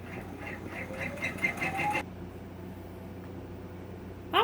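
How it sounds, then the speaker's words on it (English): An embroidery machine stitches a design onto a scarf with a steady mechanical whirr that has a rhythmic pulse at first, then settles into a quieter hum, ending with a brief sharp noise. "we're gonna let this stitch. And according to the machine, it should take 25 minutes to stitch this out"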